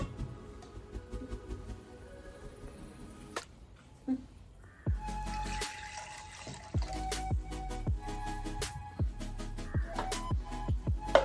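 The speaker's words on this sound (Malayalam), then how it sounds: "ഇത്തിരി വെള്ളം കൂടി ഒഴിച്ച്" Water runs and splashes into a pot of mixed vegetables for Kerala avial, a steady pour with intermittent clinks and splashes, close and moderately loud, without talk.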